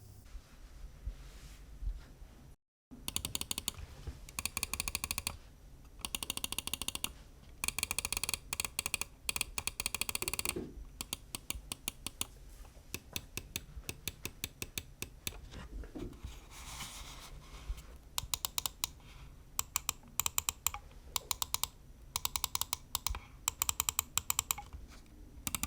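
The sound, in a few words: Lamzu Atlantis mouse clicking, Huano Blue Shell Pink Dot switches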